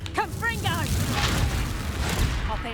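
Confringo blasting spell in Hogwarts Legacy, a sustained booming explosion with rumbling low end and crackling debris, loud and close, mixed with voices and other game effects.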